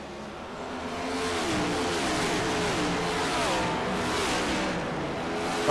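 Engines of Next Gen Cup race cars at Bristol Motor Speedway in a racing video game rev loud and close, their pitch rising and falling as the field runs a late-race restart.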